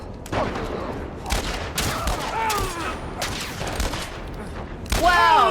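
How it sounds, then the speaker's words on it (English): Rapid bursts of gunfire from a firefight in the video game The Last of Us Part I, several loud volleys separated by short gaps, with a heavier burst at the end. "Imagine shooting a gun in a video game about shooting guns."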